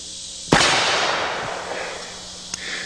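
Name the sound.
gunshot from a handgun without a muzzle brake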